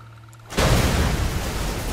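A gas station explodes in Goat Simulator with a sudden loud boom that bursts in after a quiet moment and rolls on as a dense, rumbling blast.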